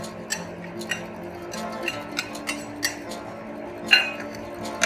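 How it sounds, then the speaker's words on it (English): A spoon clinks against a bowl at a steady pace while curd marinade with spice powders and ginger garlic paste is mixed, giving light, sharp taps about every half second over a quiet background. "Mix everything together."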